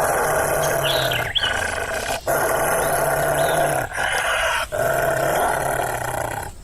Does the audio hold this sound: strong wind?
no